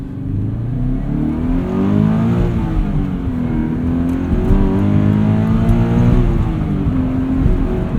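Subaru BRZ with a catted UEL header and stock exhaust, the flat engine droning loudly up and down through revs, a continuous close rumble with rising and falling pitch, no speech.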